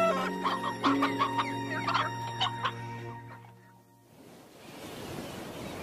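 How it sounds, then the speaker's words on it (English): Chickens cluck and cackle in a barn, several sharp repeated calls over a low sustained tone for about three seconds, then the clucking fades away into a soft washing ocean-like noise. "and noisy chickens."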